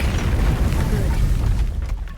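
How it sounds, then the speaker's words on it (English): A fire cantrip spell in Baldur's Gate 3 sets off a deep, rumbling explosion. The booming roar lasts about two seconds and then trails away. "Alright, fire cantrip."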